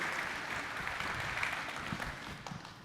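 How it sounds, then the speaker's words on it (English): An audience at an annual business awards show applauds a Hall of Fame inductee, a soft, sustained spread of clapping heard from a distance that tapers slightly toward the end. "let's give a big round of applause to Jeff"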